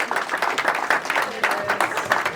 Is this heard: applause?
yes